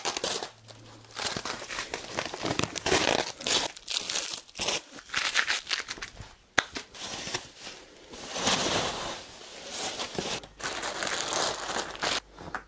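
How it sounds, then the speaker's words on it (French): Plastic wrapping crinkles and tears in bursts with short pauses, close and fairly loud, as protective packaging is pulled off a Himiway Cruiser fat bike and crumpled. "Je vais complètement déballer tout ce qu'il y a comme protection autour."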